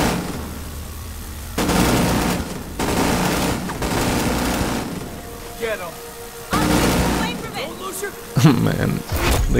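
A minigun in The Division 2 hammers out several long, loud bursts of rapid fire with short gaps between them, mixed with game effects and a voice speaking over parts of the action.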